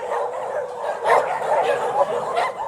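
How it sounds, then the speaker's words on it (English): Dozens of dogs barking in kennels, a crowded overlapping chorus of barks and yips at moderate distance with a few louder bursts standing out. "the dozens of barking dogs made them sick"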